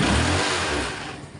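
A Yamaha Mio Soulty 115 scooter engine, previously misfiring, revs loudly up close and then settles and fades toward a lower idle over about a second and a half.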